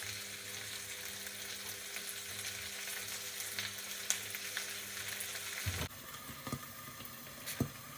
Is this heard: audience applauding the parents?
no